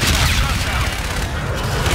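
Artillery strike explosions in Call of Duty: Infinite Warfare, a continuous heavy low rumble of blasts rolling through the battlefield, with voices talking over the din.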